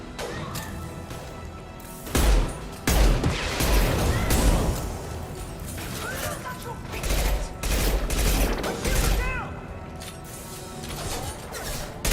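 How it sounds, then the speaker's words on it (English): Sniper rifle gunfire in the Mass Effect video game: loud cracking shots and crashing impacts in bursts, with heavy blasts around the early and middle stretches over busy battle noise. "Nice shot. I love this rifle. The deployed snipers."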